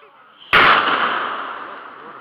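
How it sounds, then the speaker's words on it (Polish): A single sudden blast bursts out on a model container ship, followed by a long roaring, hissing decay that slowly fades. "Jeszcze jedna z eksplozji, chyba wybuch jakiś materiał."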